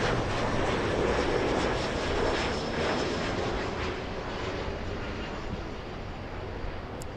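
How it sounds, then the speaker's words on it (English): An Emirates airliner pushes back from Tom Bradley International at LAX, a steady, fairly loud engine rumble that fades slightly toward the end. "Emirates pushing from Tom Bradley International"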